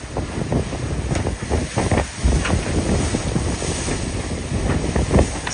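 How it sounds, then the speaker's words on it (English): Steady trade wind rushing past an IMOCA racing yacht sailing at night, a loud continuous roar of wind against the microphone mixed with sea and hull noise, no talking. "Going through the trade wind with a few clouds. It's some pretty clean sailing though."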